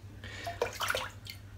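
A razor or hand rinses shave cream off in water with a few quick sloshing, dripping splashes. The sound is close and brief, with no voices.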